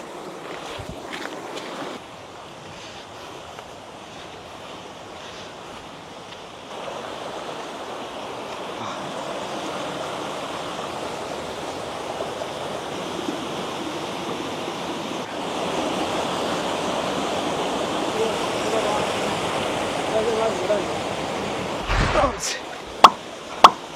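A forest waterfall at a riverside in Kurangani gives a continuous rushing roar that builds slightly over time, with faint talk beneath it and a few sharp clicks and knocks near the end.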